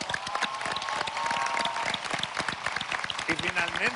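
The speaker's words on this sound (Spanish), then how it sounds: "Quiero este aplauso para Celia Cruz." Audience applause honoring Celia Cruz on a Spanish-language talk show, dense steady clapping throughout with a voice speaking over it near the end.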